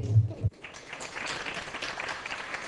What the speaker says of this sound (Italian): vi pregherei cortesemente di evitare di applaudire